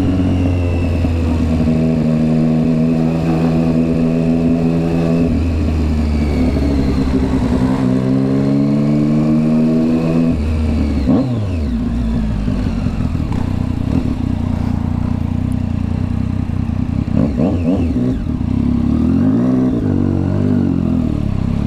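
A Triumph Street Triple 675 motorcycle engine revs repeatedly up and down close by, sharp rising and falling wails in several bursts between rough idling, with a final few quick blips near the end.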